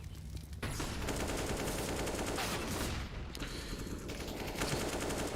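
Sustained Counter-Strike gunfire during a tournament match, dense rapid shots and bursts overlapping loudly for several seconds with barely a pause.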